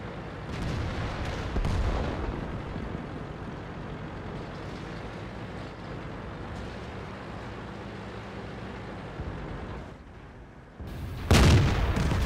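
Artillery fire in the World of Tanks video game: deep rumbling booms and a continuous low roar of engine and battle noise, ending in a sharp, loud blast near the end.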